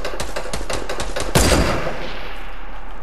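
Gunfire in a shooter video game, a rapid volley of shots followed by one louder blast, all under a dense, steady background noise.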